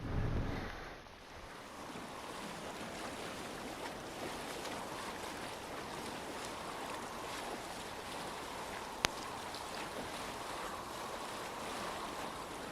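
A boat moves along a river in the video game Assassin's Creed Valhalla, giving a steady, continuous wash of water and wind noise with no one talking.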